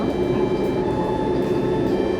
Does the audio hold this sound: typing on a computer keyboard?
no